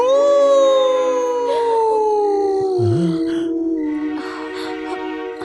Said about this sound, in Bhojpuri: कुत्ता के रोए की आवाज आए लगल